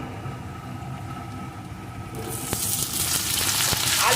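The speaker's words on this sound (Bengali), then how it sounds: "পেঁয়াজটাও একটু ভেজে নেব পেঁয়াজের সাথে আলুটাও পেঁয়াজের সাথে আমি সুন্দরভাবে ভেজে নিয়েছি" Chopped potatoes frying with onions in hot oil in a pan. It starts as a quiet, low hiss, then about halfway through a loud, bright sizzle bursts in and grows, with a few sharp pops.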